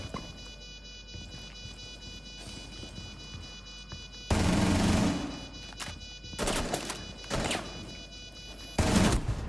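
Gunfire in the game Rainbow Six Siege, starting after a quiet stretch with a loud sustained burst, then a few shorter volleys close by, faint game sounds underneath.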